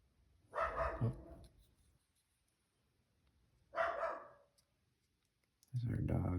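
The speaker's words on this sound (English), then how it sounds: "There's our dog upstairs, barking away at something." A few muffled dog barks from upstairs in two short bursts, distant and indoors, with quiet gaps between; a faint thump near the end.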